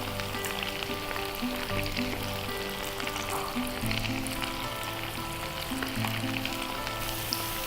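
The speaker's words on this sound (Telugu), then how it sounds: "మనం చికెన్ పీసెస్ని బ్యాచ్ వైజ్గా వేసుకున్నాం కదా, మంచి గోల్డెన్ బ్రౌన్ కలర్ వచ్చేంత వరకు డీప్ ఫ్రై చేసుకోవాలి" Chicken pieces for pakodi deep frying in hot oil, a dense, even bubbling sizzle that continues without pause, with a faint steady hum underneath.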